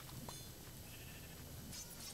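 Sheep bleating inside a dungeon-crawling video game, a soft continuous animal sound under steady game ambience with a few brighter bursts, no talk.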